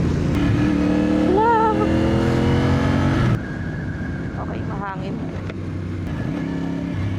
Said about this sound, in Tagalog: Grabe yung truck, no?